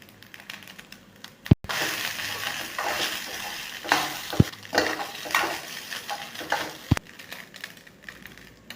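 Crumbled idiyappam with salt is stirred and roasted in a pan, a soft continuous sizzle broken by a few sharp metallic clicks and scrapes of a utensil against the pan.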